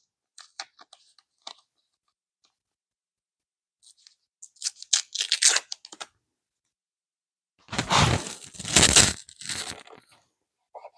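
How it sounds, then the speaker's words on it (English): Strips of tape are torn off in two rough, crackling bursts and pressed onto a bicycle fender during cleanup and decal work, with lighter taps and handling noises between them. The tearing sounds are close and loud, with no voices. "we're going to put some tape up here. And we'll put a little bit of tape down here"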